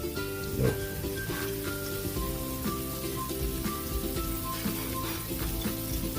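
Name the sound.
chicken afritada sautéing in a pan with sweet chili oil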